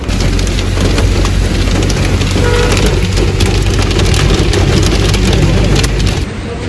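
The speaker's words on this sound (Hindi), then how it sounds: "बारिश इधर भी स्टार्ट हो चुकी है।" Heavy rain pours steadily in Rawalakot, Azad Kashmir, a dense, loud, continuous hiss that holds for the whole stretch before easing slightly at the very end.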